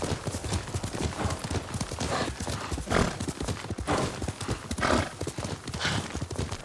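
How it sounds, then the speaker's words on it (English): Horse hooves clip-clopping steadily in the video game Ghost of Tsushima, close and continuous with a brief whinny, under light game ambience. "Yuriko's horse. She can't be far."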